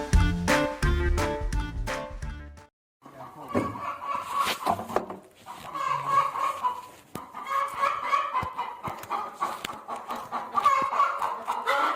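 Chickens cluck and squawk at a poultry shop in a Bengali cartoon, busy overlapping calls coming in bursts after a short musical opening, with a brief silent gap before the clucking resumes.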